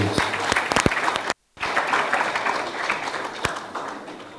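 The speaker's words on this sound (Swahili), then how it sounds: "Makofi mengi." An audience at a Simba club sponsorship announcement applauds in a full, sustained burst. The clapping cuts out briefly near the middle, then carries on at the same level.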